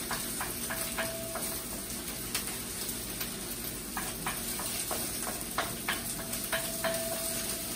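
An egg cracked into a wok fries beside rice, giving a soft continuous sizzle with light tapping and scraping clicks scattered throughout, fairly quiet and with no talking.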